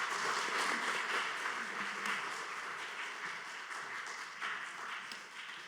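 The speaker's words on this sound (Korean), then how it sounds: "이 시간 뜨거운 박수로 영접하면서 다시 아버지의 마음으로라는 하나님의 말씀을 듣도록 하겠습니다." A church congregation applauds in welcome of a missionary during a Wednesday worship service, a sustained spread of clapping heard from a little distance, fairly soft and steady.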